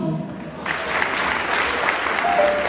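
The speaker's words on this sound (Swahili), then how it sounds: "Makofi." Applause at a Form Six graduation ceremony for Tarime and Ingwe secondary schools, steady crowd clapping rising after a short start and continuing moderately loud.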